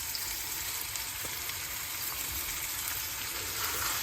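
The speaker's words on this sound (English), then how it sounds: "We're going to heat up some good old Italian olive oil and brown these beautiful bruschellonis" Braciolone browning in hot Italian olive oil, a loud, even sizzle and crackle that holds steady throughout with no talking.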